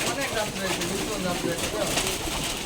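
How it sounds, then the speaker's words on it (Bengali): Many breeds of pigeons coo softly in low, repeated murmurs amid a busy background, with people talking over them throughout. "এখানে অনেক জাতের কবুতর আছে আপনার কাছে"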